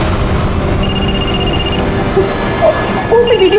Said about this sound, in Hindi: उसी वीडियो वाले नंबर से फोन आया, उसी नंबर से।